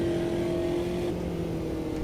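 A race car engine in the sim racing game Automobilista 2 drones steadily and loudly, its pitch dropping partway through as the gear changes down, with no voices over it.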